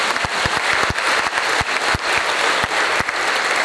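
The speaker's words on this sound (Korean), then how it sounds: "여러분 박수 부탁드립니다." A large audience claps steadily at a formal public lecture in Korea, dense applause with scattered sharper claps standing out, continuous and fairly loud throughout.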